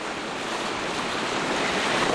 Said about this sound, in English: The whole Colorado River goes through this little slot.